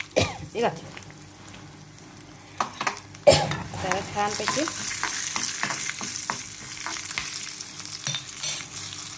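Asafoetida, curry leaves and dried red chillies sizzle and crackle in hot oil, with clinks of a spoon against the pan and a brief throat clearing; no one speaks.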